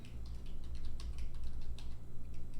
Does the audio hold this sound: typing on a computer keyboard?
yes